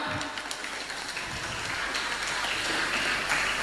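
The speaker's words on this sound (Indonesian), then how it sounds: "Tepuk tangan yang kuat." Dense audience applause fills the space steadily from start to finish, a broad hiss of many hands clapping together, fairly distant and even, with no voices over it.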